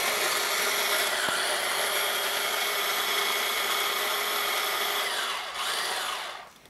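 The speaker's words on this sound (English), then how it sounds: "So I've put in about a cup of walnuts into my little mini Cuisinart." A small Hamilton Beach mini food chopper grinds about a cup of walnuts into crumbs, giving a loud, steady motor whir with a rattling, gritty edge that runs for about five seconds, dips, briefly resumes, then cuts off.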